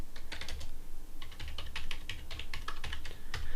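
Rapid, uneven keystrokes on a computer keyboard, close and fairly quiet, with short pauses between bursts and no voices.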